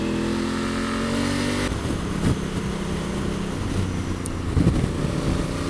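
A Honda Africa Twin 1000 with a manual gearbox pulls away under acceleration, a steady engine drone that shifts pitch partway through, joined by rushing wind noise as the bike gathers speed.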